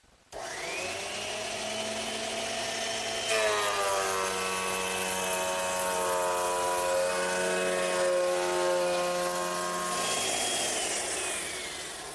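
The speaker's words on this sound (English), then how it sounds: "I'm using my thickness planer" A thickness planer feeds wood blanks through, a loud machine whine with shifting tonal pitch as each board is cut, rising sharply after a few seconds and easing off near the end.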